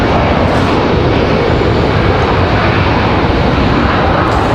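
Copa Airlines airliner taxiing at Raleigh-Durham airport, a loud steady jet engine roar that holds constant throughout, close by, with no talk.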